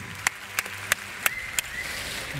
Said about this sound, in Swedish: Mer applåder!